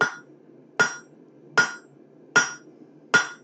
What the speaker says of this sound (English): So right now we are starting a rivet.